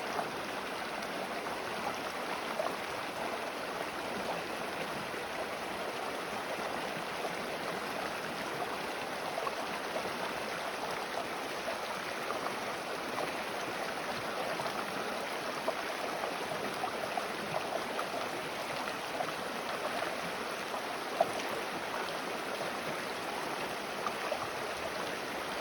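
A deep, fast-moving river on the Colorado Trail, a constant broadband rush of flowing water that stays even and unbroken from start to finish, with no voices.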